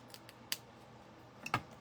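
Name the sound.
scissors cutting a small paper tag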